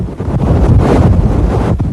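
Strong storm winds buffet the microphone during a storm surge in Gulf Shores, Alabama, a steady loud roar with low rumbling gusts and surf-like wash and no voices.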